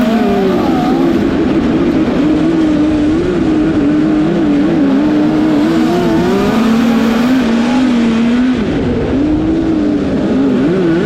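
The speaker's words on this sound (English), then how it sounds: "If you listen to the motor, you can tell I'm having to baby it to keep the tires underneath me" A dirt track race car engine roars continuously and loudly, its pitch wavering up and down as the throttle is eased and pressed again, close and unbroken throughout.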